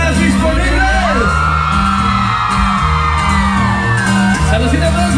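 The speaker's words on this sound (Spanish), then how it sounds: "Es el grito de las solteras disponibles." A crowd of single women at a live concert in Tampa, Florida shouts and cheers loudly and continuously over pounding music, with whoops and yells rising throughout.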